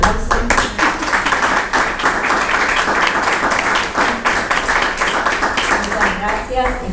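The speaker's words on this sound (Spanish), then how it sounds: "Bueno, le damos un aplauso." Applause from an academic conference audience after a talk, steady dense clapping filling the room with a voice speaking over it.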